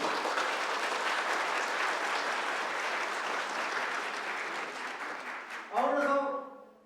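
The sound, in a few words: applause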